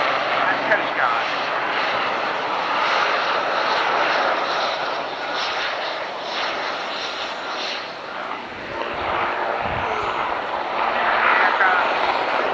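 A propeller rescue aircraft drones overhead at the 1991 Alconbury airshow, a loud, sustained engine roar that swells and fades slightly with wind buffeting the microphone throughout.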